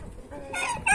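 Roosters and chickens at a poultry breeding farm cluck and crow close by, with a short rising crow breaking out over steady clucking and farmyard background noise.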